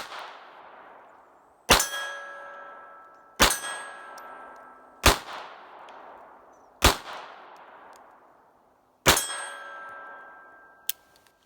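Five sharp, loud FN 1910 pistol shots fire at uneven intervals, each followed by a ringing decay, and a faint metallic clink comes near the end.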